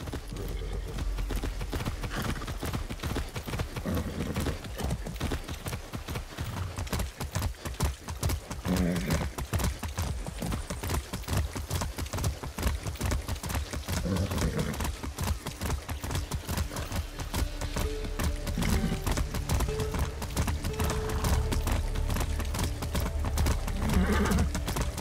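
In the video game Far Cry 6, a ridden horse's hooves clip-clop steadily and close by, with occasional snorts and whinnies over the rhythmic gait.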